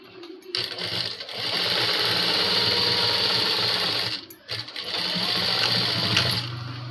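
Sewing machine stitching the fall onto the edge of a saree, a steady fast mechanical whir that runs loud and close for several seconds, briefly stops near the end, then restarts.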